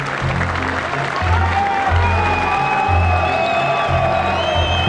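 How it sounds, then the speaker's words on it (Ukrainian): A football stadium crowd applauds a substituted goal-scoring player leaving the pitch, a steady, loud wash of clapping that runs through the whole stretch under a commentator's voice. "Його проводжають під оплески, звичайно."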